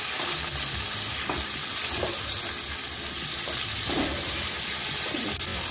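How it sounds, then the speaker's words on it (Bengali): Brinjal fries in hot oil, giving a steady, close sizzle with occasional stirring noises and no talk. "বেগুনটা আমি এখন হালকা ব্রাউন করে ভেজে নেব।"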